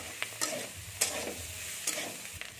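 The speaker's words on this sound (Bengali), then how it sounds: "আলুটা নেড়ে নিচ্ছি, হয়েই এসছে" Potatoes frying in a pan of oil, stirred with a spatula in a village kitchen; sharp scraping strokes land every half second or so over a quiet, continuous sizzle.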